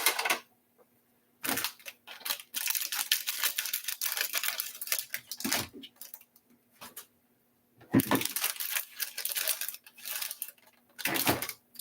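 A plastic bag of wooden clothespins for a Christmas wreath craft being cut open, a close series of rustling, crinkling, and clattering bursts separated by short quiet gaps.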